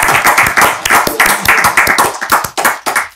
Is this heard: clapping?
yes